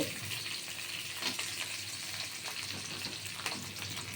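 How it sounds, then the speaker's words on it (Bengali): Onion and eggplant fry with garlic and green chili in a pan, a soft, even sizzle with faint crackles and occasional stirring scrapes, fairly quiet and with no speech. "এবার রসুনের সাথেই পেঁয়াজটা ভাজা হবে পেঁয়াজের সাথেই বেগুনটা ভাজা হবে"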